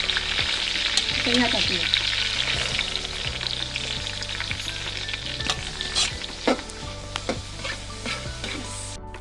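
Green chilies and other ingredients for a dried-shrimp chivda frying and being stirred in a pan, a continuous close sizzle with scraping stir strokes, while someone speaks briefly over it.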